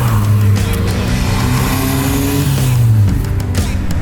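A classic car cruising on the motorway at around 54 mph, heard from inside as a loud, steady engine drone with shifting tonal hum and road noise throughout.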